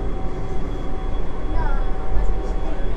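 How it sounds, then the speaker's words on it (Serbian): A driverless two-car metro train in Lille rumbles steadily and close by, a continuous low roar running the whole time with faint muffled voices in the background. "do stadiona ide metro sa 2 vagona, ali na svakih 30 sekundi"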